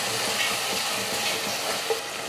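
A pan of sautéed tomatoes sizzles softly as chili powder is stirred in while cooking a Tamil fish curry (meen kulambu), a constant low frying hiss with faint scraping.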